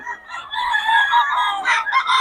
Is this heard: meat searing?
no